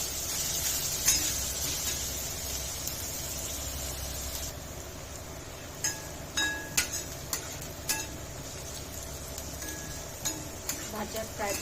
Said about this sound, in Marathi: हाय फ्लेमवर परतून घेऊ। हाय फ्लेमवर परतल्याने भाज्या नरम होतील।